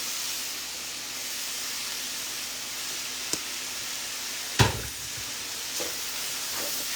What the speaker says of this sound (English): And let's just mix this very good.